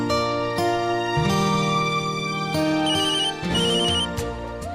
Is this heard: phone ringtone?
yes